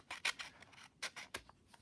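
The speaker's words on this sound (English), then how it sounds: "I have nice little kindergarten scissors that I'm using." Small kindergarten scissors snip through folded paper for an origami canary, several quick faint cuts in a close, quiet room.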